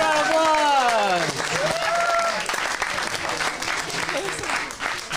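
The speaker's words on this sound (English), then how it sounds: "let's give it a round of applause" Applause from an improv comedy show audience in Phoenix, steady and fairly loud throughout, with a voice speaking and laughing over it at the start.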